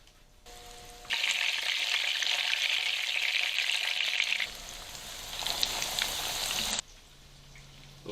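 A breaded schnitzel cutlet sizzles in hot oil in a pan, a loud crackling hiss that flares suddenly, holds for several seconds, then drops back to a quieter sizzle.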